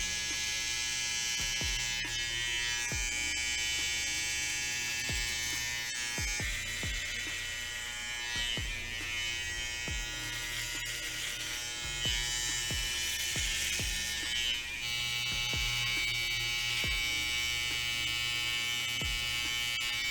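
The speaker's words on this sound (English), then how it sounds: "To get started, I guess I'm going to be using my trimmer." Electric hair trimmer running without a guard during a self-cut mohawk, a steady close buzz throughout, with repeated soft clicks and taps as the blades pass through hair.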